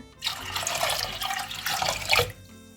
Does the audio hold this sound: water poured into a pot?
yes